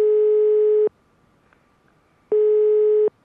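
Telephone network tone on an unanswered call: two long, loud steady beeps repeating with a silent gap between them, alone with no voices.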